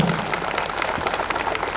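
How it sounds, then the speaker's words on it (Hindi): Applause from an audience at a youth dialogue event held at a government higher secondary school, dense continuous clapping at moderate loudness throughout the short stretch. "एक बार जोरदार ताली बजाओ"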